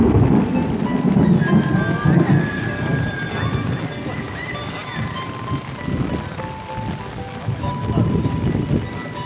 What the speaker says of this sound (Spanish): mucha lluvia en el medio de las islas